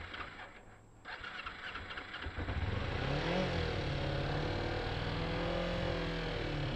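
A Kawasaki Ninja motorcycle engine, freshly tuned, fires up and settles into a high, steady idle that runs loud and close after a quieter start, with no voices.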